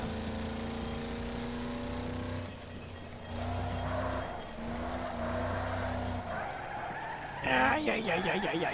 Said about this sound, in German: Unser Auto klappert aber schon ganz schön dolle